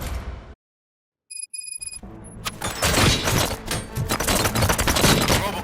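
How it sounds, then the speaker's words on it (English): Gunfire in the video game RoboCop: Rogue City: after a moment of silence and a few electronic tones, rapid bursts of shots and booming impacts erupt and continue loudly to the end. "Gunshots? What's going on?"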